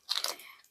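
Crunchy bites into candy apple flavored Takis popcorn, a quick burst of close crisp crunches followed by softer fading chewing, no talk.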